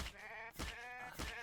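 A sheep in a survival video game bleats in a quick run of three wavering nasal calls, close and clear with no talk over them.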